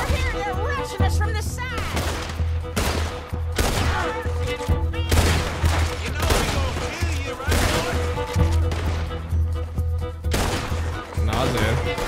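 Repeated gunfire crackles through a Red Dead Redemption 2 shootout, with sharp shots in bursts and irregular volleys across the whole span, mixed with game sounds and someone talking between and over the shots.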